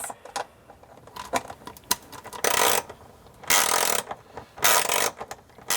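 A ratcheting wrench tightens the nuts on a Lippert battery monitor, with quick bursts of close metallic clicking broken by short pauses and a few louder clacks.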